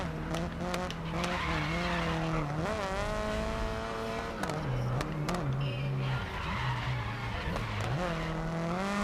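Race car engine in GRID Legends racing game, a constant loud droning whine with rising and falling pitch and screeching tyre skids as the car misses a corner, with a voice talking over it.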